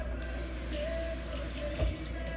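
Tap water runs steadily into a kitchen sink while fresh thyme and parsley are rinsed, a continuous close splashing flow with one brief louder gush near the end.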